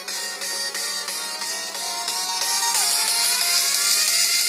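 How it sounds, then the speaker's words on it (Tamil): Song played back through Boat Rockerzz 400 headphones, a steady bright music track with a repeating beat and sustained tones, heard without talk. "நான் இந்த சாங் ப்ளே பண்ணுறேன்."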